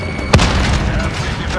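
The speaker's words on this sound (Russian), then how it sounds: "Бросаю гранату!" A grenade explosion in Call of Duty Warzone on the Caldera map, a single sharp blast followed by a rumbling, noisy tail, brief and close.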